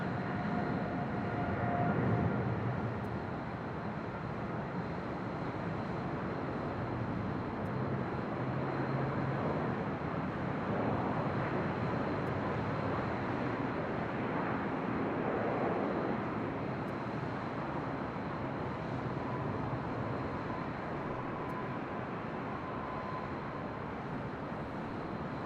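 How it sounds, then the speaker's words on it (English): A Polar Air Cargo Boeing 777 freighter taking off from the south side of LAX, a distant, sustained jet roar that holds steady at moderate loudness for the whole stretch, with no one talking. "Taking off there on the south side was Polar Air Cargo, Flight 235, and that Southern Air titled 777 heading to Tokyo Narita."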